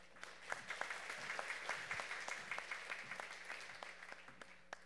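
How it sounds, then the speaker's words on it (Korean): Audience applause greeting a presenter walking up at a 300-person residents' roundtable forum in Songpa, Seoul, with steady, moderately distant clapping and sharp individual claps standing out throughout, in a large hall. "박수로 맞아주십시오"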